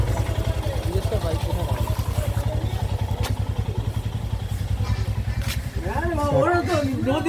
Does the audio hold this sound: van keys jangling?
no